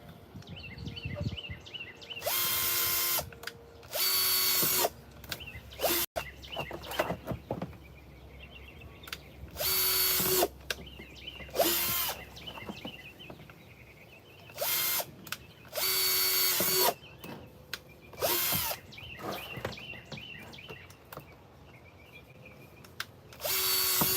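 A power drill whirs in repeated short bursts, biting into a plastic container, with quieter clicks and handling noises between the bursts.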